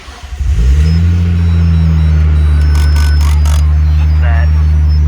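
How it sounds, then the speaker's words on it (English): A 1998 Nissan Skyline R34 GTT with a GTR face swap cold-starts: a brief crank, then the engine catches and settles into a loud, steady idle close by, with faint talking in the background. "So, cold start."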